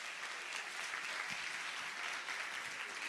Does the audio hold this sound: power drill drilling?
no